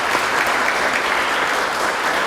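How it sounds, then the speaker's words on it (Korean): Dense, even applause from a university anniversary ceremony audience welcoming guests, a loud continuous wash of clapping without pause. "박수로 환영합시다."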